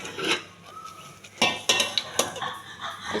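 Millet and moong dal pongal being served into a bowl, with sharp clinks and scrapes of pots and spoons, a few distinct knocks in quick succession, close and fairly loud, no talking.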